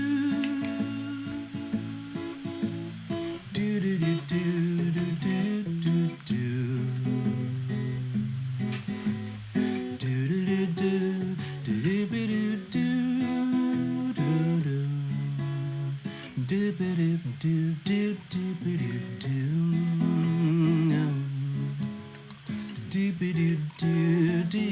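A song plays continuously during a live Sunday night stream, with a melodic lead line over dense accompaniment at steady moderate volume and no spoken talk.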